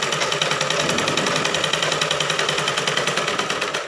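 Sewing machine stitching a blouse, running steadily and continuously as a close, loud rapid mechanical rattle with no pauses.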